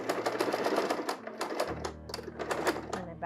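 A sewing machine stitches knit fabric in a quick, even run of rapid clicks, then shifts into a short back stitch with a changed, slightly lower mechanical hum, loud and close.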